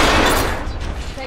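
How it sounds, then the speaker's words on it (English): Gunfire erupts in Apex Legends, a dense burst of rapid shots and impacts at close range that tapers off, with a voice speaking over the shooting. "Taking fire."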